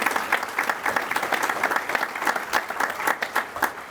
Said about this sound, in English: let's give them a big warm applause as well